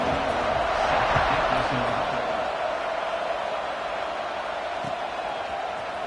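A stadium crowd in a football video game roars steadily at kickoff, a dense, continuous wash of cheering that stays loud and even throughout, with a commentator's voice faintly underneath.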